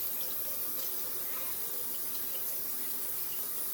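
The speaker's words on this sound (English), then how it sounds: "you want to wash the fish off before and after" Tap water running steadily into a sink over raw salmon being rinsed, a constant close splashing rush with no pauses.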